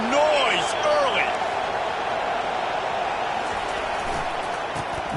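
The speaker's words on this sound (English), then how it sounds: "This crowd bringing the energy and noise early." Football stadium crowd at an Ohio State game, a broad steady roar of many distant voices with a few sharper whistles or shouts early on, continuous and full throughout.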